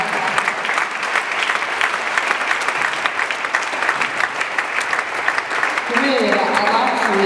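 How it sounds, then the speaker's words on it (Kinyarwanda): Audience applause at a film launch event, steady dense clapping from a crowd throughout, joined near the end by a brighter swell of cheering or ululation. "Munyemerera tugakomera amashyi Imana yatwongeye akanya ko kubaho"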